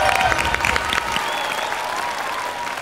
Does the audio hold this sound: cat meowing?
no